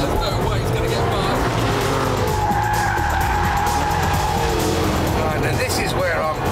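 An Audi R8 and a Porsche 911 race on a track, engines roaring loudly with tire squeal through corners while someone talks over the steady engine noise.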